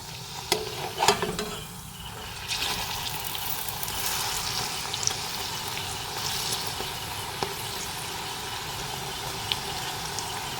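Potato fritters frying in hot oil and being turned over with a spatula, a steady close sizzle with a few scraping stirs and clinks near the start.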